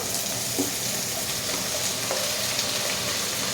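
Capsicum goes into a hot pan of browned onions for chilli chicken, giving a steady, loud, close sizzle and crackle with small stirring clicks throughout.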